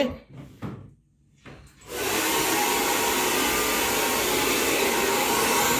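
A hair dryer blows on a customer's hair at a barbershop, kicking in after about two seconds of quieter shuffling and then holding a loud, steady, even rush to the end.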